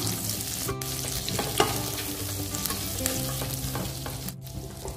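Ginger and garlic sizzle in a pan, with a steady frying hiss and scraping stir sounds, fairly close and moderately quiet. A low hum and some tonal background noise sit underneath, and no one speaks.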